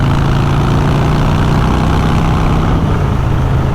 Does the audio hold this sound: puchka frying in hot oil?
no